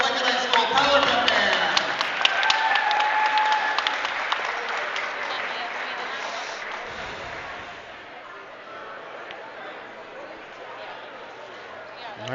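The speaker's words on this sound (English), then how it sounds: "Let's have another round of applause for the Lincoln High School Prowler Band." A crowd in a high school gym applauds the Lincoln High School Prowler Band at a wrestling meet, loud at first and slowly fading, while an announcer's voice carries over the clapping.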